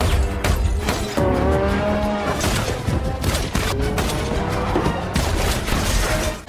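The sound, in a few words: sports car driving at speed with gunfire, film scene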